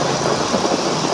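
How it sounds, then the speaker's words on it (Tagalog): Dense, loud roar of heavy rain pouring down during a thunderstorm, a continuous wash of noise with a low rumble beneath it. "Oh, grabe yan, lakas ng ulan."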